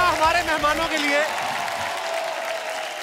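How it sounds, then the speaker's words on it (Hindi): Studio audience applause greeting celebrity guests on a Hindi comedy talk show, a loud burst of clapping that swells at the start and then holds as a steady, dense wash, with a voice calling out over it early on. "जोरदार तालियां हमारे मेहमानों के लिए।"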